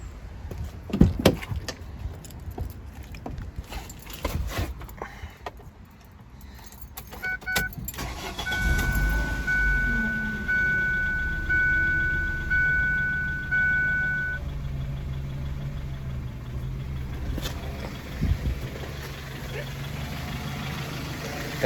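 2002 Ford Focus with a PCV hose fault: keys and door clatter first, then the engine cranks, catches and settles into a steady, slightly uneven idle, with a voice talking briefly near the start.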